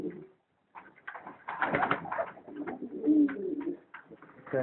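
A pigeon, a gift bird kept among others, coos close by in soft, low, repeated throaty calls with short pauses between them.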